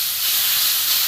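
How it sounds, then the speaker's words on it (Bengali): Grated papaya fries in a pan over low gas for halwa, giving a steady, close, even sizzle and hiss with no break and no talk. "পেঁপেটা একটু ভালো করে ভেজে নেব।"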